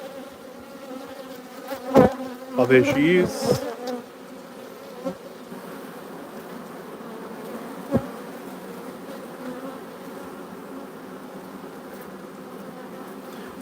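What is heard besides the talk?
buzzing bees from South Australia around their queen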